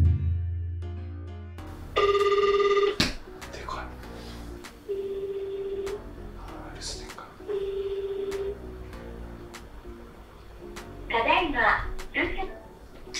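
A home landline telephone rings with an incoming anonymous call, bright electronic ring bursts repeating in a steady pattern at close range, with people talking quietly between and over the rings.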